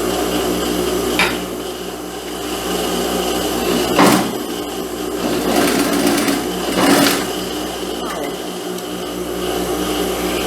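A domestic sewing machine runs a seam on fabric for a jumpsuit, a steady close whirring broken by short pauses and a few clicks and clanks as the work is adjusted.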